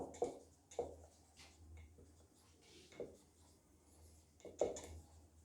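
Pen or marker strokes writing out a physics problem about a ball thrown vertically upward, heard as brief scratchy bursts at irregular intervals, faint and close, with low room hum between them.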